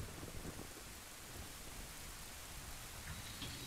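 Steady rain hisses with thunder-like rumble in The Legend of Zelda: Ocarina of Time, a constant broadband downpour with no voices.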